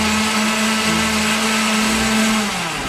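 A kitchen blender whirs steadily as it blends a smoothie, its motor holding a constant loud pitch before slowing down near the end, with no talking over it.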